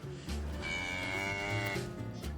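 Cattle lowing on an organic beef farm, a long deep moo with rich harmonics rising near and loud, followed by further lowing from the herd, with no talk.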